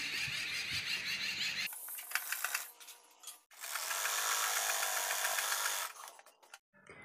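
A sewing machine stitches a straight seam on a baby girl's top in fast, rattling mechanical bursts, with a brief pause between runs and a short stop near the end.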